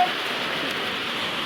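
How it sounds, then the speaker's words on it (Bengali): Steady rain hisses evenly over the whole stretch, a soft, constant wash of falling water with no voices. "খুব মজা হচ্ছে বৃষ্টির আওয়াজ হচ্ছে"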